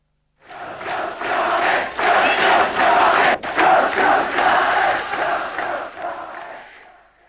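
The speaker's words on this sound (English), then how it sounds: "This sets this crowd alight." Football crowd at a Newcastle United match roaring and cheering, a dense swelling mass of voices that rises after a brief silence and holds loud, with rhythmic surges like chanting.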